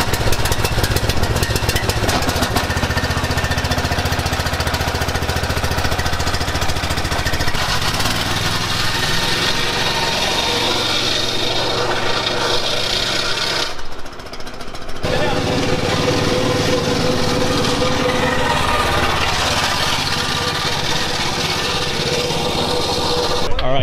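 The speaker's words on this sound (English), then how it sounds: "You're fighting the engine right now." A Baja SAE off-road competition car's engine runs loud and close, a buzzing small-engine drone with revs shifting and a brief dip midway, while voices talk over it.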